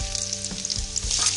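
Onions sizzling in a pan with ginger and green chilli for paneer bhurji, a steady close hiss with a few soft stirring scrapes over the brief moment.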